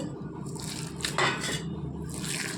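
A spoon mixing prawn fritter batter with finely chopped coriander in a bowl, giving soft scraping and clinking strokes close by, with a brief louder scrape midway and no speech.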